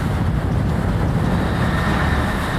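Strong, steady wind roars and buffets the microphone on the deck of a swordfishing boat at sea, a dense low rumble with the faint wash of water beneath it, with no voices present.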